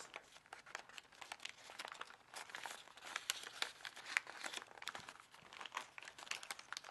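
Paper for an origami rose cube crinkling and crackling as it is folded and collapsed by hand, a quiet, close stream of irregular rustles and small crisp snaps with no voices.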